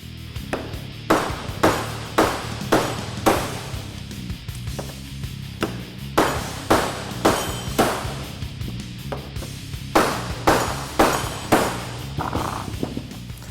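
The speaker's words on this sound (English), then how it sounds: "so we need to hammer out the factory studs." Sharp metallic hammer strikes knock factory wheel studs out of a 2009-2016 Ford F-150 hub, repeating in a steady rhythm over a constant background hum, pausing briefly once, loud and close.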